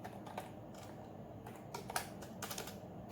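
Bootstrap HTML code is typed on a computer keyboard as a quiet run of irregular key clicks, with small clusters of taps and a sharper stroke near the middle, over low room hiss.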